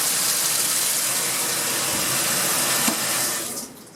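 A top-loading washing machine, under repair for a faulty lid switch that stops it draining and spinning, fills with water in a steady, loud broadband gush that stays constant throughout and tapers slightly at the end.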